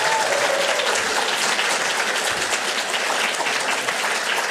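Loud, sustained applause from a conference audience cheering the speakers at a venture lightning-round event, a dense wash of clapping hands with no gaps.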